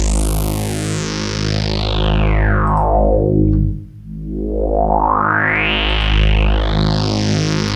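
Synthesizer tone in FabFilter Twin 3 passed through a high-pass filter, loud and buzzy, with a resonant sweep gliding up and down and a brief dip in the middle, no voices.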